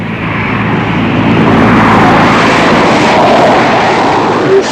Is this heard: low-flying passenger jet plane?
yes